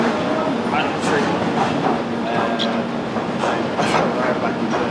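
Inside a moving train heading to Wolverhampton, a loud continuous rumble with rattling carriage noise and faint wheel clatter, with a voice talking now and then.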